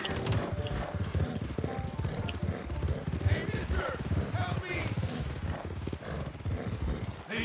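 Horse hooves clip-clop in Red Dead Redemption 2 on the ride to Valentine, a steady rhythmic trot running throughout beneath game music and someone talking over it.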